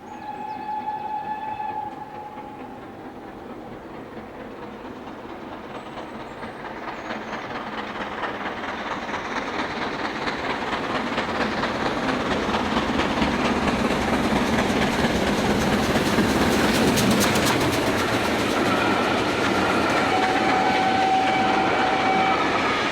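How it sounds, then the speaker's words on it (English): GWR steam locomotive 5972 Olton Hall pulls away from York with an express train, a rumbling train sound that swells steadily louder with rhythmic wheel and exhaust beats, and a brief whistle-like tone at the start and end. "5972 Alton Hall accelerates away from York with a Scarborough Spar Express on the 2nd of June 2005"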